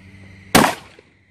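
A single shotgun blast cracks out close and loud, then a short fading tail follows on an outdoor shooting drill.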